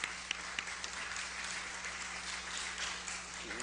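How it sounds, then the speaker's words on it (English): Audience applause after a speaker's remarks at a talk on reparations, a steady dense wash of clapping that holds at an even level throughout with no voices. "let's give him another round of applause"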